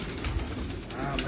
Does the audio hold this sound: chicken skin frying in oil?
no